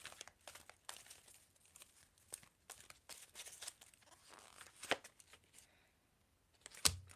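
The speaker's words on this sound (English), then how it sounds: "Let me pull out another card for you guys." Tarot cards shuffled and drawn, with quick papery riffles and crinkles in a run of short bursts, a pause, then a sharp final snap, close and fairly quiet.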